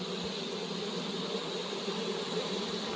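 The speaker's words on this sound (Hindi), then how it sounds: "ये मधुमक्खी का छत्ता बाहर से होता है और ये बाहर आ रहे हैं थोड़ा थोड़ा करके।" Honeybees buzz steadily at the outside of their hive in the hills of Uttarakhand, a dense, continuous drone close by with no pauses or voices.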